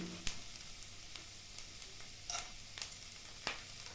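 Spinach shukto cooking in a pan with salt and sugar being stirred in: a quiet, even sizzle punctuated by a few sharp, isolated clicks and taps of the spoon against the pan.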